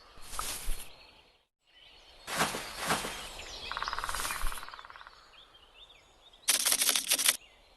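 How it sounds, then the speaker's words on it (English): A crow in a forest setting gives several harsh, raspy caws in separate bursts, fairly close and clear against a quiet background with faint chirps. "Crow."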